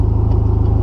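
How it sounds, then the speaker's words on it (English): Car running with an open exhaust dumping straight off the O2 housing, no downpipe fitted: a loud, steady, close-up rumble with a throbbing pulse. "As you can hear, it's pretty loud. It's just a straight dump off the O2 housing right now, straight down."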